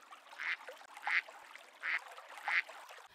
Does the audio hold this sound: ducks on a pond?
yes